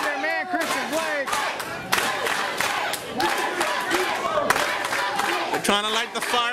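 A wrestling crowd cheers and chants loudly for wrestler Christian Blake during a match against Andy Dalton, with rhythmic shouting and rising yells that fill the arena throughout.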